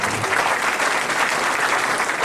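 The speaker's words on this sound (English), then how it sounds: "Let us express our feelings of regards to Dr. Mahavir sir by big round of applause." An audience at the Geetanjali Institute of Technical Studies gives a big round of applause for Dr. Mahavir, a dense, even wash of clapping that holds at a steady loud level from start to finish with no voices over it.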